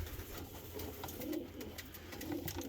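A domestic pigeon, a pet hen that has bonded with her keeper, coos softly nearby in low, rounded bursts repeated a few times over steady background noise.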